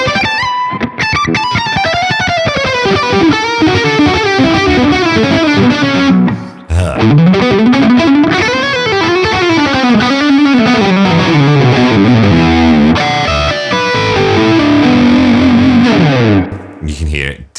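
Electric guitar played through a Laney Lionheart Loudpedal, heavily distorted, loud and close, with sustained chords and fast melodic runs that keep going for the whole stretch, broken by one brief pause.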